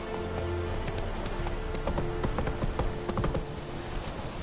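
Hooves of a galloping horse in the video game The Witcher 3 beat a rapid, continuous clip-clop in an even rhythm, close and steady throughout.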